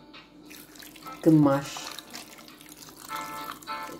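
Water is poured into a small grinder holding avocado, parsley and peppers: a short, close splash and trickle in the middle, with someone talking before and after it.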